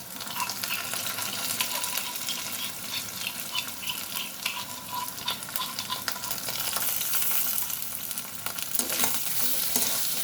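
Crushed garlic and chilli fry with onion and jackfruit seeds in a pan, a steady loud sizzle under repeated scraping stirs, with no talking.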